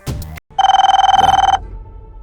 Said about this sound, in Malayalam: MLA-യുടെ ഫോൺ